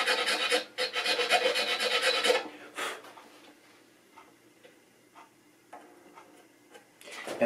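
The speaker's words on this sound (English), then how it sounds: "I still need to file because it needs to be this way more." A file rasps steadily across a guitar nut being shaped, loud continuous strokes for a couple of seconds, then a short burst, followed by quieter scattered scrapes and small ticks before filing resumes at the end.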